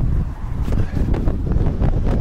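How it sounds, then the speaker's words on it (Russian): Strong, steady wind roars and buffets the microphone throughout, a continuous low rumble with gusty surges. "Ой, ветер сильный."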